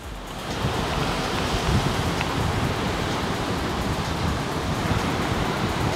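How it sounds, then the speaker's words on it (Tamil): Strong wind blows outdoors, a loud continuous roar buffeting the microphone with broadband rumble and no pauses. "ஏன் மறைச்சி மறைச்சி பிடிக்கிறேன்னா காத்தடிக்குது"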